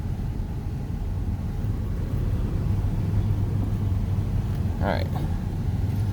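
A vehicle's engine idles and rumbles as it backs up in reverse toward a fence line, a constant low drone with a steady hum. Outdoors, with a brief spoken word near the end.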